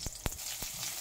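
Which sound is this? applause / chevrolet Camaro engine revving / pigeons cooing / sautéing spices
sautéing spices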